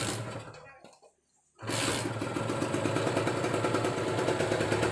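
A cold Kawasaki Ninja two-stroke motorcycle engine runs, cuts out to near silence for about half a second, then restarts and settles into a loud, steady, buzzing idle close by.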